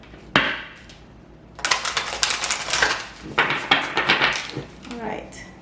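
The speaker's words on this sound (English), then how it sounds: "Shuffling. One more shuffle." A deck of tarot cards is shuffled up close in bursts of crisp riffling and slapping card noise, with short pauses between shuffles and a brief voice near the end.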